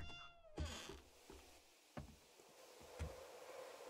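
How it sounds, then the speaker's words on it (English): Cat meows several times in a survival game, Seven Days to Die: a long meow opens, then shorter mews recur at intervals, moderately close, with soft thumps and background noise between. "The meowing sound?"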